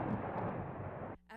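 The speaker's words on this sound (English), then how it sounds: "thunderous explosions and flashes of orange light" Explosives blast a breach in an earthen levee on the Mississippi River during a flood, a thunderous low boom and roar that rumbles on for about a second, then cuts off abruptly.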